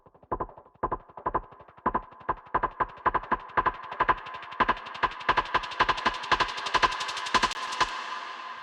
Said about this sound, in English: In the second part of the verse, a percussion drum sound starts to play,